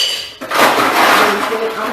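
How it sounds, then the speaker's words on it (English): Ice cubes tumble into a bowl in a home kitchen during sushi preparation, a sharp clattering clink followed by a brief rattling settle, close and loud. "just put some ice cubes in this bowl"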